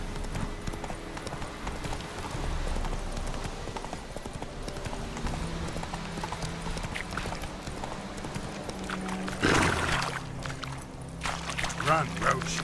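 The horse Roach gallops in The Witcher 3, a steady rapid clip-clop of hooves under game sounds, with a louder rustling burst near the end.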